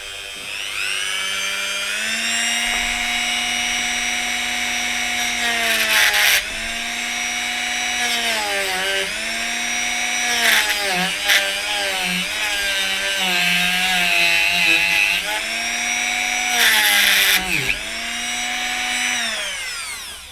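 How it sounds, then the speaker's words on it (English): A Dremel rotary tool cuts into a soft, rubbery steering wheel, giving a loud, steady high-pitched whine whose pitch dips and recovers repeatedly as the bit loads up and frees, with brief harsher grinding bursts, close up. "someone commented, why don't I use a Dremel? So I thought I'd give it a go."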